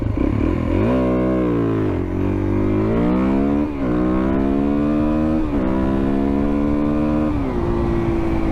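A Suzuki DRZ400SM motorcycle launches hard in first gear. Its single-cylinder engine revs loud and close, climbing steeply in pitch with a few brief dips as the throttle is worked, and runs continuously throughout.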